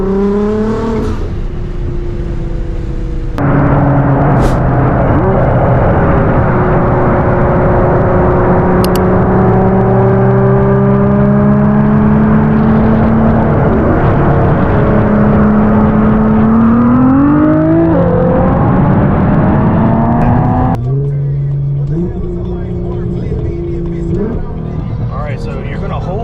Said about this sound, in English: we're going to be doing some rolling anti-lag launches in my brother Josh's 2023 Nismo GTR